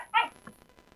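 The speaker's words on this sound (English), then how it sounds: "The young people do not want to hear you barking" A dog gives one short, sharp bark indoors, followed by a faint yip and a brief quiet trailing whimper.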